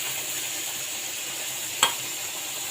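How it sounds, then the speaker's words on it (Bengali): Meat sizzles in a pan with onions, a soft, even frying hiss heard close, broken once by a brief sharp tap of a utensil. "এদিক দিয়ে আমার মাংসটা ভাজা হচ্ছে থাক।"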